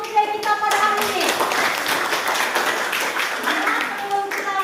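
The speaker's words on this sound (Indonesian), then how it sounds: "tepuk tangan untuk quotes of the day kita pada hari ini" Students clapping in a high school classroom, a steady sustained round of applause over the full span with faint voices mixed in.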